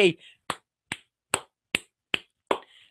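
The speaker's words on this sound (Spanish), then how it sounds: "me aplaudo, me aplaudo" A single man on a podcast claps for himself: seven crisp, evenly spaced hand claps, close and dry, with a brief vocal sound at the start and end.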